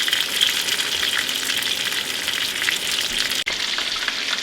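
Shrimp frying in a pan make a constant, close, crackling sizzle that runs unbroken except for one sharp momentary dropout, with no talking.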